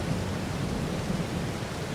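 Rain and rolling thunder in Farming Simulator 22 form a steady, loud, low-heavy rumble with constant hiss over it, unbroken throughout.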